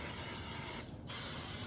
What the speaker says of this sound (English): it's good to just spray them.